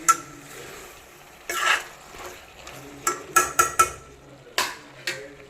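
Vegetables with raw mango cooking in a pot on a stove at medium heat while a spoon stirs them, giving a series of sharp clinks and scrapes against the pot over a low background hiss.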